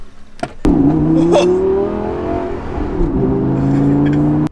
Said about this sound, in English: It's a nice day, so I thought I'd bring the Lambo out.